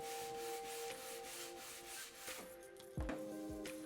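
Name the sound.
edge trimming tool rubbing edge banding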